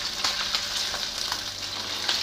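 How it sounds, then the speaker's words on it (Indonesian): Shrimp sauté in hot oil in a pan with a steady, bright sizzle and faint stirring clatter, close and continuous with no talking. "Setelah minyak panas kemudian tumis udang."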